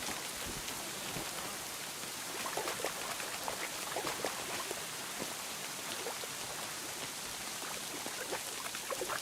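Rain in Kingdom Come Deliverance 2: a dense, continuous wash of falling rain and pattering drops, moderately loud and even from start to finish, with no voices.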